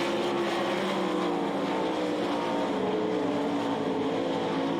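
Several 360 sprint cars race down the back straightaway of a dirt track, a steady, distant roar of engines blending together without pause for a few seconds.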